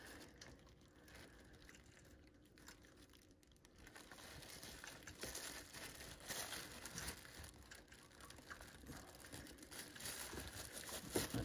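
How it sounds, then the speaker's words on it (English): Plastic bags crinkling as they snag on fasteners while a VANOS unit is pulled from a BMW E46 3 Series engine; a steady, close rustling texture that grows louder and denser in the second half. "Plastic bags catching on some fasteners."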